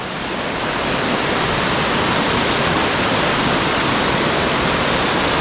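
Constant rushing of a flowing stream, close and loud, a thick unbroken hiss and burble that swells slightly at the start and holds steady.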